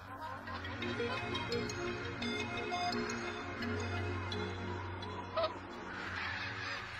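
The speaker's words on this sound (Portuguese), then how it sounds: "milhares de patos e gansos pousam e decolam durante a migração" A large flock of migrating ducks and geese, honking and calling continuously in a dense overlapping chorus at moderate distance over a steady low drone, with one sharper call near the end.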